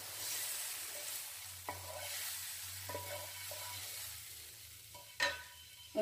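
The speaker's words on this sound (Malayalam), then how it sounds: "ഒന്ന് മെല്ലെ ഇളക്കി കൊടുക്കാം." Navara rice payasam being stirred in a pot gives soft scraping and faint sizzling, with occasional clinks of the spoon against the pot, close and quiet without any talk.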